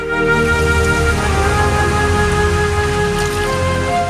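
Steady rain pours down continuously, a dense hiss of drops striking surfaces with a constant low rumble underneath, and no voices.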